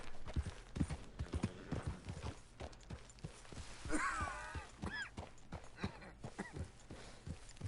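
Steady clip-clop of horse hooves trotting on ground in the video game Red Dead Redemption 2, with a brief neigh or snort partway through; close and moderately loud, with no talking over it.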